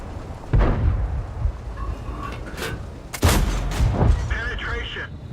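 Tank gun shots in a video game, several heavy booming reports a few seconds apart, loud and close, with a player talking between them.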